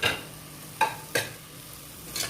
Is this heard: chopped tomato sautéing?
yes